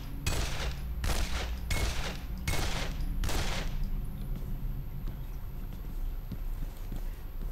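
Gunfire in the video game Condemned: Criminal Origins: five loud, sharp shots fired close in quick, slightly uneven succession, then a quiet, low ambient hum with no further shots.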